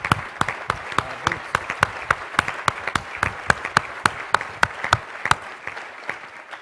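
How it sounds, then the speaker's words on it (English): Scattered, sparse clapping at a sustainability conference, distinct individual claps in a steady uneven rhythm, fairly close and moderately loud, fading toward the end. "I'd just like to give him and Timberland another round of applause."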